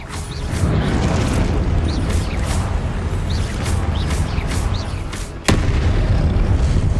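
Blasting spell explosions in the video game Hogwarts Legacy: a loud, dense roar of booming blasts, with a sharp crack near the end before the rumbling continues.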